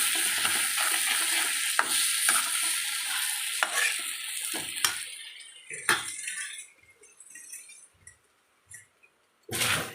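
Garlic and vegetables sauté in a pan for a vegetable gravy, with a steady frying hiss and scattered clinks and scrapes of a spoon against the pan that thin out toward the end.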